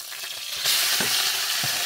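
Steady, loud sizzling of steak frying in a hot pan, a continuous crackling hiss with occasional sharper pops and scrapes, inside a VW T5 camper van.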